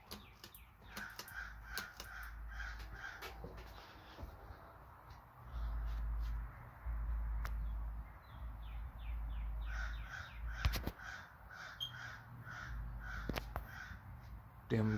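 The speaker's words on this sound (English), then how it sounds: "Damn crows are making noises" Crows caw outside in several rhythmic runs of harsh calls, faint and distant, over an indoor background of low rumbling, clicks and a person talking.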